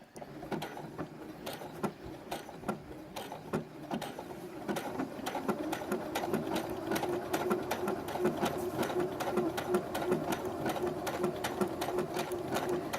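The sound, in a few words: sewing machine stitching blanket stitch applique on quilt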